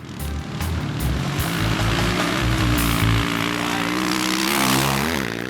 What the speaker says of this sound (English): So Roger, I'm up in the helicopter watching you guys